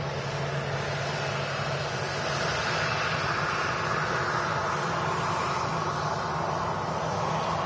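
A Ryanair airliner at Manchester Airport produces a sustained, fairly loud jet engine roar with a low droning hum, steady and unbroken across the whole stretch, with no voices over it.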